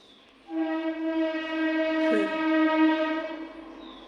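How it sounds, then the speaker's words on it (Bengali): A train horn sounds near a railway station: one loud, steady, tonal blast of about three and a half seconds that starts abruptly, holds level and fades slightly at the end, with no talking. "ট্রেন যাচ্ছে স্টেশনের কাছেই"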